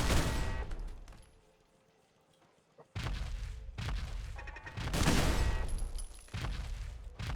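Automated turrets fire in the modded Fallout 4 video game: heavy bursts of rapid gunfire with thuds, broken by a short lull and then several more loud volleys.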